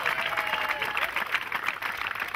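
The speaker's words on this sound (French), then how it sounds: "On peut applaudir." Crowd applause at a 2013 opening ceremony, a fairly faint, even patter of many hands with some voices mixed in beneath.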